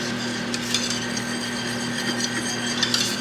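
A whisk stirring a creamy shrimp sauce in a pan, with soft scraping and light clinks against the metal over a steady low hum.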